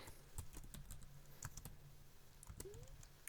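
Typing on a computer keyboard while working in Microsoft Excel, quiet irregular key clicks in short clusters close to the mic, with no talk.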